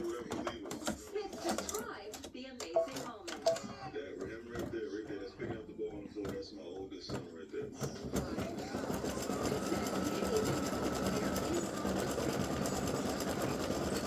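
An embroidery machine stitching free-standing lace Christmas tree earrings starts up after a stretch of talking, then runs as a steady, close whirring buzz with rapid needle clatter.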